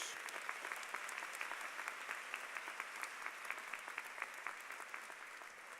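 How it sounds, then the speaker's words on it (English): Sustained applause from a graduate commencement audience honoring a science leader, steady dense clapping throughout, moderately distant and even in level. "One more round of applause for one of America's great science leaders."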